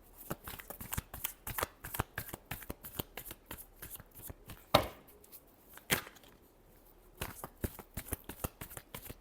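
Tarot cards riffle and slap in rapid repeated shuffles, close up and crisp, with brief pauses between bursts and no talking.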